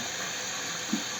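Tap water runs into a sinus rinse bottle as it is rinsed out, a steady close hiss with a small splash near the end.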